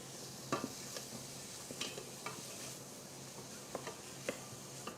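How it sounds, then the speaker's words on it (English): Dried thyme and parsley are stirred into softly sizzling mirepoix in a pot, with faint scattered scrapes and taps of the utensil over a steady low fry. "Give that a quick stir."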